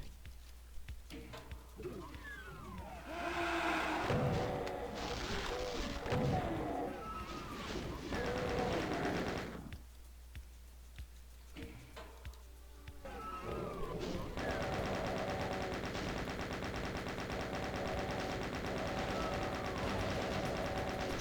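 Gunfire in the Doom game shooting at a pair of barons, with bursts of loud, chaotic shots and crashes in the first half, a brief quieter gap, then steady, dense weapon noise toward the end.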